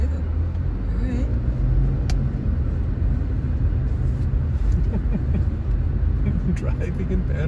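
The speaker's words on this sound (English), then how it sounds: "Driving in Panama." A car drives along a road near San Carlos, Panama, with a continuous deep engine and road rumble from inside the cabin and faint muffled voices underneath.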